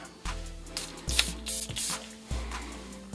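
Short bursts of hissing perfume spray, a few quick spritzes spaced over a few seconds, close by, with soft handling noises and a low background hum.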